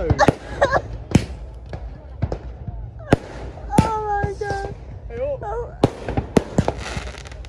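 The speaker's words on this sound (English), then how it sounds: "That was literally the best fireworks show I've ever seen." A fireworks show on Koh Lanta, Thailand, with a rapid series of sharp cracks and booms at irregular intervals and some whistling rockets rising, while people talk and exclaim over the bangs.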